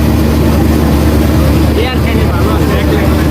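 A passenger launch on the Dhaka to Barishal river route, Kajal 7 racing Kuakata 1, gives off a loud, steady engine drone with a low rumble that holds unbroken throughout, with faint voices mixed in beneath it.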